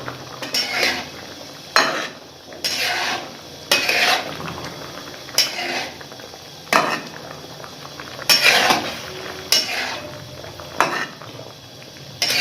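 Turmeric and cumin powder mixed into black pepper chicken karahi: loud, rhythmic clanks of a metal spatula against the karahi, repeating every second or so, with scraping between strikes and a faint sizzle underneath.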